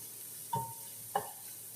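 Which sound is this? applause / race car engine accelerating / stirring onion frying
stirring onion frying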